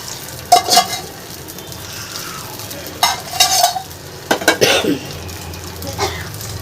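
Curry leaves fried in hot oil are poured into a chutney, giving bursts of sizzling and frying noise with stirring and a few utensil clinks, close and moderately loud.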